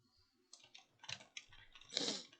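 Computer keyboard keys pressed in a few quick clattering bursts during a test, close and fairly quiet, with a louder cluster at the end.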